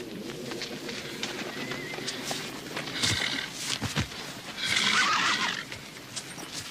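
Horses neigh and whinny outdoors in a western film, several loud, close calls rising over a steady background of rustle and movement, with no talking.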